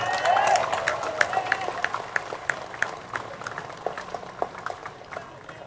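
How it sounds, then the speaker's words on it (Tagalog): Audience applause at a Manila city donation event where a Chinese-Filipino donor gives motorcycles and an SUV: a brief voice at the start, then moderately loud claps with steady rhythmic beats that gradually fade over several seconds. "Pwede ba lakasan nyo palakpak natin?"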